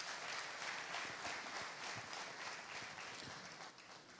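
Audience applause at a Benin lottery draw as a one million CFA franc cheque is presented, a dense, even patter of many hands clapping that holds steady and tapers slightly toward the end.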